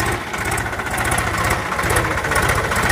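A tractor engine runs steadily at slow throttle during a field demonstration, giving a continuous low, rhythmic diesel chugging that is close and fairly loud throughout, with no talking.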